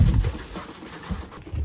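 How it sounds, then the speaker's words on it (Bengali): Pigeons coo in low, soft bursts near the start, middle and end of the clip, over a faint steady background hiss, with no talking. "উপরে এখনো অনেক কবুতর ফ্লাই করতেছে"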